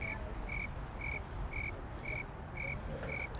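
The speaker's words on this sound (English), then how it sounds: "This is where I put the cricket sound on the video." A cricket chirping sound effect added over steady outdoor noise, giving short, evenly spaced high chirps about twice a second at practice for advanced slow-speed motorcycle riding in California.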